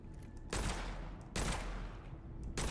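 Gunfire in the first-person shooter Witchfire, three loud, sharp blasts spaced about a second apart over a dense, rumbling game background, with no voices.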